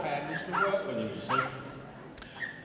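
A working collie barks in short yips and bow-wows during an agility run at a Crufts pairs competition, the calls near and repeated over the crowd and arena noise, with a commentator's voice audible at times.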